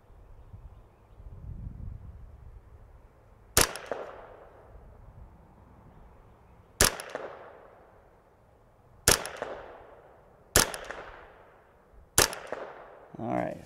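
Five sharp .22 rifle shots from a KIDD 10/22 fed by 15-round magazines, spaced a few seconds apart and fairly close, each with a quick decaying tail over low background noise.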